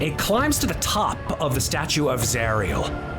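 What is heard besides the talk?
No distinct noise like a dog, phone or traffic.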